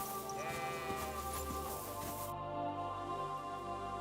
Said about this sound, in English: I found the sheep.